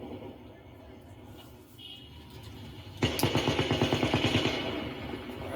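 Rapid bursts of automatic gunfire from more than one machine gun crack out from a distance during the Route 91 festival shooting, a fast repeating rattle that starts suddenly and keeps going over background noise.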